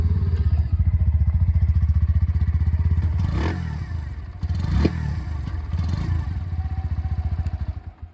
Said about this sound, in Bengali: আমাদের ইঞ্জিন সাউন্ডটাও শোনাবো।